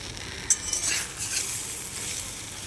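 Softened vegetables for shukto, a Bengali mixed-vegetable dish, are turned over in a pan with steady scraping strokes under a soft background sizzle, with one sharper utensil knock early on.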